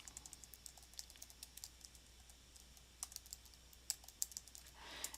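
Quiet, close typing on a computer keyboard, with irregular light key clicks scattered through and a few firmer taps near the end, no voices.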